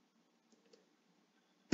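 Computer mouse click while working in a spreadsheet, a single sharp close click at the end of a nearly silent stretch preceded by a couple of faint taps.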